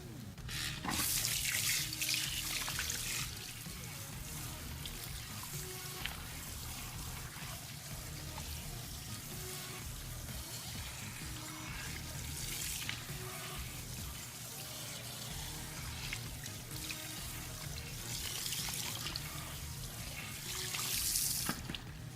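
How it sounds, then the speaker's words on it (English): Cool tap water runs steadily while hair is rinsed at a sink, a continuous splashing flow with brief louder gushes and faint drips, no talking. "I'm going to rinse with cool water so it locks in all the moisture and shine."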